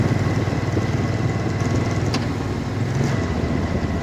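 A 22-year-old Suzuki Intruder 1500 LC motorcycle engine rumbles loudly and steadily with a deep, pulsing low beat, and its tone dips briefly around a rough gear shift.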